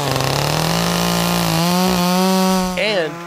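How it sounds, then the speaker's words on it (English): A chainsaw carving wood off a back road in South Nashville drones loudly and steadily, its engine pitch sliding up and down as it revs, close by and alone. "the sound of a chainsaw"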